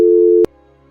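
A phone's steady electronic tone after a call is cut off sounds loud and close for about half a second, ends with a sharp click, then leaves a faint residual hum.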